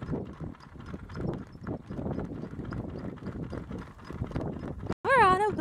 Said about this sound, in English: Oh, she has some horses over there. There's some horses.